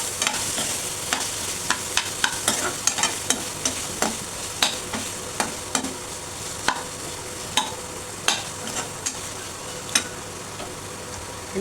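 Potatoes and peas with curry leaves sautéing in a pan, a steady sizzle broken by regular sharp clicks of the spoon scraping the pan, close and fairly loud, with no talking.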